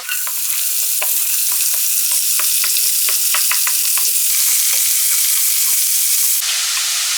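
Onions fry with ginger and garlic in a pan for a fish egg thoran, producing a loud, continuous sizzle with frequent sharp crackles and stirring scrapes, close and uninterrupted by talk.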